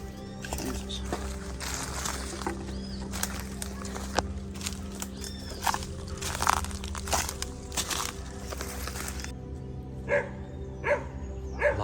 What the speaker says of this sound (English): Lots of dogs.